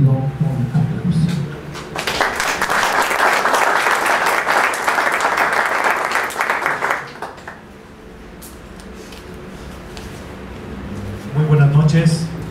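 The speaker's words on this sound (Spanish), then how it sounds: "cedo este micrófono al licenciado Samuel Gómez Luna Cortés para quien pido un aplauso" Audience applause at a book presentation for the speaker who is about to take the microphone, a sustained burst of clapping of several seconds between stretches of talk.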